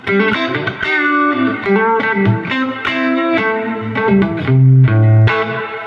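Electric guitar through a tube amp plays a short phrase of chords and single notes, mostly clean with a slight edge of breakup.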